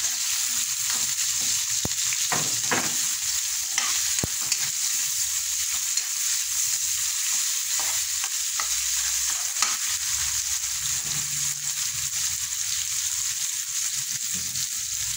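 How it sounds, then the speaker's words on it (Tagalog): Two tomatoes crushed into a hot pan of frying ingredients make a loud, constant sizzle broken by irregular scraping and mashing strokes throughout. "Durugin natin para lumakot yan."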